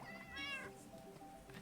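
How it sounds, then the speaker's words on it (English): A cat in the video game Minecraft gives a single short, rising meow, fairly quiet against a steady game background with no voices. "I can hear loads of meowing"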